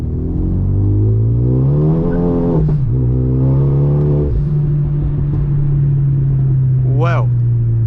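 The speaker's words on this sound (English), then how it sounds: "So as you can probably already hear, it sounds pretty crispy, so let's hear it." A 2012 Renault Megane RS Trophy with a full exhaust, no catalytic converters and a stage 2 intercooler revs loudly up close, rising and falling in sharp bursts over a steady, crackling idle.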